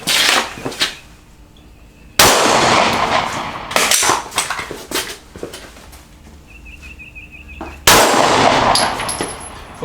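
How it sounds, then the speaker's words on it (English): Pistol gunshots fired during braced strong-side and support-side shooting drills at an outdoor range, heard as a few loud, sharp reports with ringing steel-target clangs in between, close and distinct. "So, strong side, support side, right side, left side, brace shooting."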